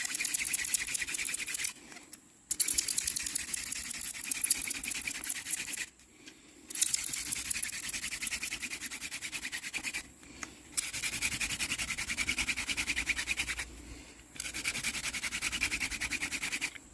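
Wood rubbed hard back and forth against wood to make fire, grinding wood chips, a close, loud scratchy rasping in long sustained bouts separated by short pauses.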